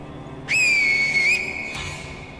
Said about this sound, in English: we can rinse and repeat the finger whistle trick with him